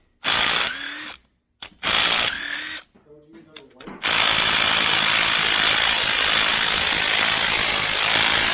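A power tool, likely an impact driver, runs in bursts on a bolt during prep of an aluminum 5.3L engine for a Buick LS swap, then a steady loud whir holds; close, loud and harsh.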